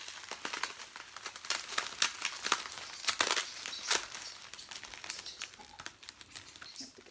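Close crinkling and rustling of taped plastic packaging around model horses, with sharp crackles and tearing bursts, irregular and busy, as wrapping is pulled open.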